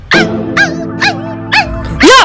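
A dog barks five times in a loud, close sequence of sharp, evenly spaced barks, the last one longer and more drawn out, over a steady background hum.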